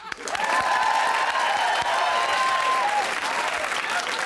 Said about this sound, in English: Let's have a big round of applause for the Victorian Terrace House.